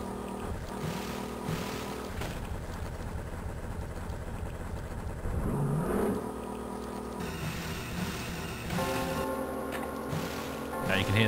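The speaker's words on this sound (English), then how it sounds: "How do you get the boat to go in turbo mode?" Boat engine in the Tomb Raider remaster video game, a steady droning motor running continuously throughout with layered game music and water sounds over it.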